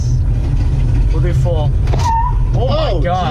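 A Mustang's engine rumbles loudly from inside as the car moves and slows in a test of newly converted manual brakes, with people talking over the low steady drone.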